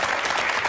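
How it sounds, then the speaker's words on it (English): Applause from a small group of comedians on a TV quiz show, steady clapping filling the short moment without talk. "they do their own applause"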